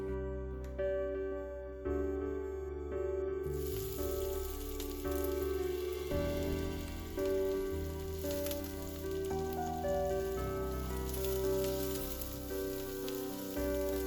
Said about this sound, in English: When crackled, add the chopped onions and saute for a minute.